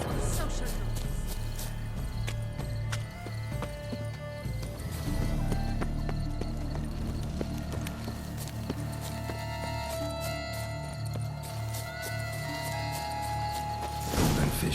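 Horse hooves clip-clop steadily in The Witcher 3, a rhythmic, close trotting that runs under game music and ambient sound, with a whinny possible along the way.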